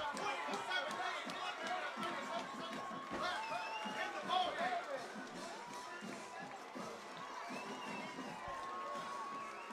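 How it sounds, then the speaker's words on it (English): A home crowd at a Friday night high school football game in Eau Gallie roars and cheers after a touchdown, a dense sustained din with whistles and shouts and no single voice standing out. "And the Commodore crowd goes crazy."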